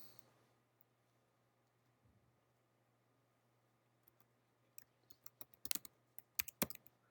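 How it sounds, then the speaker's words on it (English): Computer keyboard typing, a few faint clicks at first, then a burst of sharp keystrokes near the end, close and alone in a quiet room. "let me just type it"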